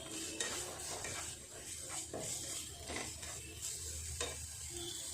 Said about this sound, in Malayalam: നമുക്ക് വഴറ്റി കൊടുക്കാം കേട്ടോ.